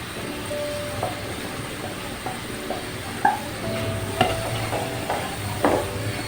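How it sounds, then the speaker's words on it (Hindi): Spices sautéing with tomatoes in a pan for achari dal mash, with salt, turmeric and dry coriander powder added; a steady low sizzle runs under scattered clinks and stirring scrapes, close and fairly quiet, with no talk. "टमाटर के साथ साथ नाजरीन मसालों की भुनाई भी हो जाएगी।"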